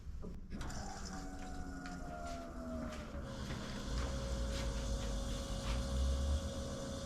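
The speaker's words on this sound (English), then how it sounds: "I'm going to go ahead now and connect up my fuel pump so that I can get that running." Electric fuel pump on a Jeep 4.0 engine in a 1982 CJ7 switches on with a clicking start, then a steady whine that drops slightly in pitch and holds, with low hum beneath, no talking.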